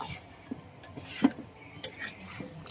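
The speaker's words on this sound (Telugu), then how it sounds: "కళాయిలో నూనెలో వేయించుకున్నటువంటి చేప ముక్కలను ఇప్పుడు ఆ పోపు దినుసులు ఇవన్నిటిలో కూడా వేయించిన తర్వాత అందులో వేసి కలుపుతున్నారు బాగా" Fried fish pieces are stirred with tempering spices in a pan for fish pickle, heard as scattered metallic scrapes and taps of a utensil over a faint background sizzle.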